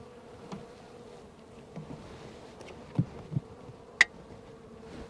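Honey bees from a very strong hive buzzing in a faint, steady low hum, broken by a few short, sharp taps and knocks.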